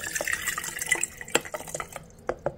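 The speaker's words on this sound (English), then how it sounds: "and you pour the water into here." Water poured from a pitcher into the reservoir of an IMUSA espresso and cappuccino maker, heard as a close, splashy trickle with scattered drips and small clinks that thin out near the end.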